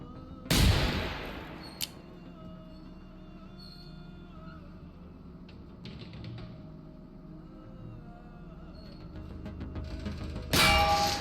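A metallic clang of a bullet striking a turret in a video game rings out sharply near the start, followed by a quieter ding and a later burst of impacts near the end, over low background hum.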